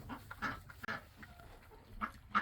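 Farm chickens cluck in short scattered bursts, soft and somewhat distant, with brief pauses between calls against a quiet outdoor background.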